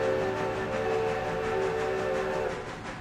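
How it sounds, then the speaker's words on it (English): A steam locomotive whistle in a railroad video game sounds a long, sustained multi-tone blast over a rumbling train, fairly loud and steady before trailing off near the end. "That's a beautiful sounding whistle."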